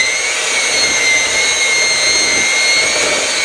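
An electric mixer creams butter with white and brown sugar in a steady, loud, high-pitched motor whine with a constant drone and no pauses.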